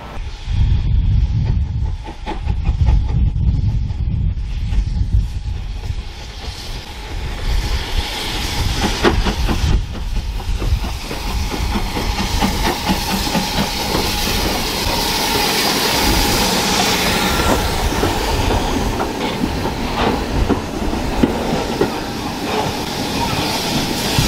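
A BR Standard 4 steam train rumbles and clatters steadily along the track from Weybourne to Holt on the North Norfolk Railway, with hissing and engine noise, loud and continuous, with faint voices at times.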